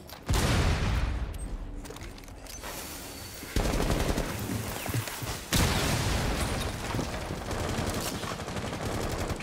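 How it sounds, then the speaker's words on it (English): Video game gunfire rattles in rapid automatic bursts with heavy booming shots, loud and continuous with a few sharp onsets, in a Consulate match. "Oh my god, they're fucking shooting."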